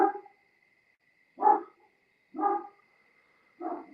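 Dogs bark in short bursts, riled up by activity at the neighbors', three or four loud woofs spaced about a second apart with a steady faint tone running underneath.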